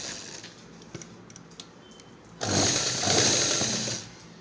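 A sewing machine stitching a saree fall, with a few soft clicks at first and then a loud, close burst of fast running stitches lasting about a second and a half before it eases off.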